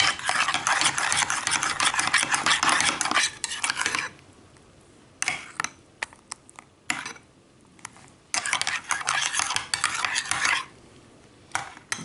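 Salad ingredients dressed with vinegar being tossed together in a bowl, with bursts of rustling, clinking mixing that come and go in loud stretches separated by quieter pauses.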